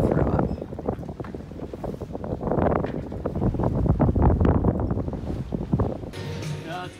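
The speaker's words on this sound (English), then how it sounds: "we do have the jib out. And we are sailing" A sailboat under jib on a rough winter passage in Canada, with loud wind buffeting and rushing water against the hull throughout, and a voice talking faintly beneath the noise.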